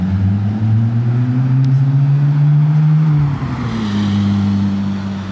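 A Porsche GT3 engine revs loudly up close, its tone climbing to a sustained high howl, then dropping sharply around the third second into a lower, settling drone with a brief burble.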